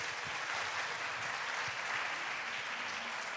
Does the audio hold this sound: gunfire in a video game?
no